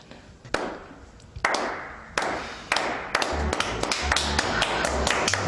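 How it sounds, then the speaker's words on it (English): Sharp hand claps in an office, starting slow and spaced, then quickening into a denser, irregular round of applause, with some faint background rumble. "Does that really warrant a slow clap?"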